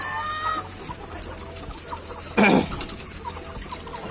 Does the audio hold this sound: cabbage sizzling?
no